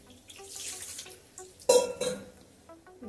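Water is poured into a pot of moong dal in a home kitchen, a brief splashing pour with faint metallic pot clinks, fairly close and quiet overall.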